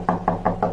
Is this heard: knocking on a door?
yes